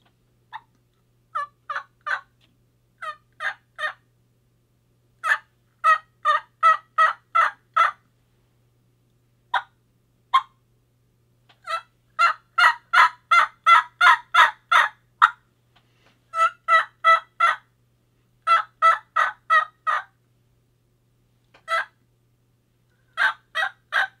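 Turkey hen yelping imitated on a mouth call: loud, clear bursts of short, rhythmic raspy yelps in runs of five to seven notes, separated by brief pauses, with no talking over them.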